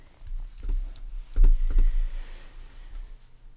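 Quick, uneven typing on a computer keyboard while building a website, a close run of clustered key clicks with a few heavier strokes in the middle and no talking.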